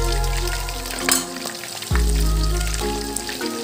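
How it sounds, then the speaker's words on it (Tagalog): Fish frying crispy in hot oil, a loud continuous sizzle with a burst of crackling as more goes into the pan partway through. "Ay, crispy fry."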